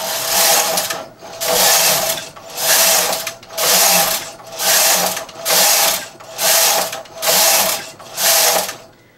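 A knitting machine knitting rows, its carriage swept back and forth in eight loud, even passes of whirring mechanical clatter, each about a second long with brief pauses between, close and alone.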